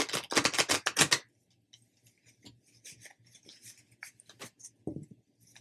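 A quick run of crisp riffling tarot card shuffles, followed by softer scattered taps and slides of cards being handled.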